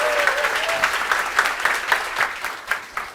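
A church congregation applauds during a Sunday youth worship service, a dense, steady clatter of many hands clapping close by, swelling in small waves for about three seconds with no voices over it.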